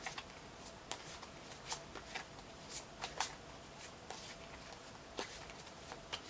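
Soft, irregular riffling and tapping of tarot cards being shuffled close by, quiet crisp clicks in uneven bursts against a faint background hiss.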